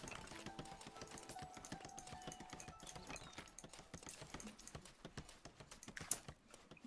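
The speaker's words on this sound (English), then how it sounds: "I'm pretty sure you can hear the mechanical keyboard in the background" A mechanical keyboard clatters faintly in the background, with rapid irregular key clicks running throughout under quiet computer game sounds.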